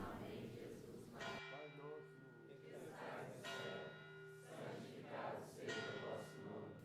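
A chapel bell in Itapemirim rings loud and close in repeated strikes, each with a sustained ringing tone, over a steady background murmur of crowd noise.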